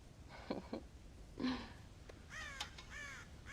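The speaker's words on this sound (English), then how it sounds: "God damn crows!" Crows in the Red Dead Redemption video game caw several times in short bursts, some single and some in quick pairs, fairly near over quiet outdoor ambience, with no speech.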